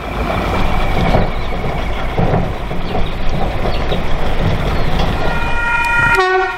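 Passenger train arriving at Wondabyne, a remote station with no road access, its steady rumbling roar near and loud throughout, ending with a short horn toot.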